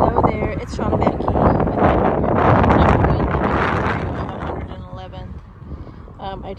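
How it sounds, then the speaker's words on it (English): Gusty outdoor wind roars loudly across the microphone as broadband rumble and hiss, swelling in the middle and easing toward the end, with no speech over it. "it's windy today"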